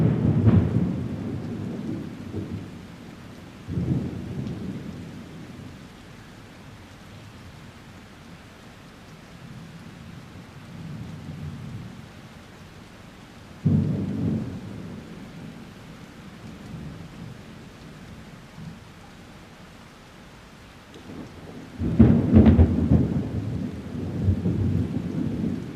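Rain and thunder during a tornado chase: steady rain hiss runs throughout while several deep rumbles of thunder roll in and fade, one loud crack near the end.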